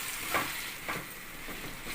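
Masala for paneer curry sizzles in a pan, a soft steady fry with a few brief stirring scrapes, fairly faint and close, with no talking.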